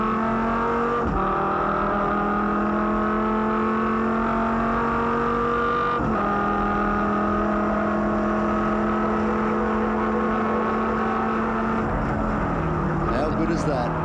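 A V10 8-litre race car accelerating hard at Sandown onto the back straight, its loud engine note climbing steadily through several upshifts, with a brief drop in pitch at each gear change.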